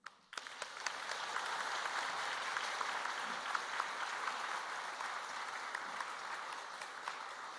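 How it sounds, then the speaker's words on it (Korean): A congregation at a Wednesday worship service for Cambodia gives steady applause in church, a faint, even wash of many hands clapping that begins abruptly and holds for several seconds. "하나님께 박수로 영광 돌리겠습니다"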